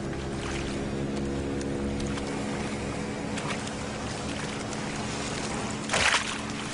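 Motorboat engine droning with tonal hum as it passes over water, a steady mechanical rumble, followed near the end by a brief sharp splash from a leaping fish.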